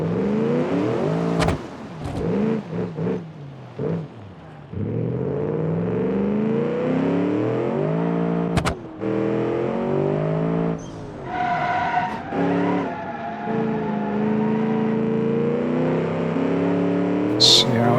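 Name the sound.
car engine accelerating in the video game Automation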